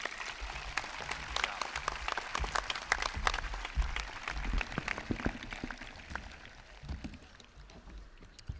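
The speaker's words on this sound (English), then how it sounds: "please give a round of applause to our magnificent parents" At a 2010 Shawnee Mission South graduation ceremony, the audience applauds the parents, crisp scattered claps building into steady applause that thins out toward the end, heard from a moderate distance.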